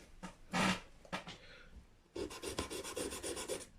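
A guitar nut on a parts Telecaster is lightly polished by hand: a short burst of rubbing, a pause, then a run of quick, even rasping strokes, quiet and close.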